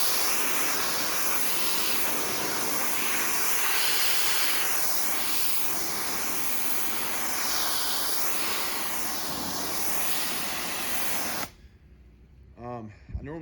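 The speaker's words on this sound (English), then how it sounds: "So I have my pressure washer kind of the PSI kind of down a little bit." A pressure washer set to a reduced PSI sprays a fairly new residential concrete driveway, producing a loud, continuous hiss with a sweeping rise and fall. It cuts off near the end, where brief speech follows.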